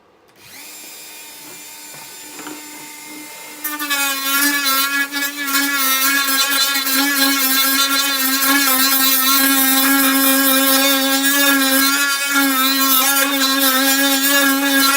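An angle grinder fitted with a flap disc cleans up a part for a TIE pilot helmet, spinning up and then running loud and steady with a whining harmonic tone, close and continuous throughout.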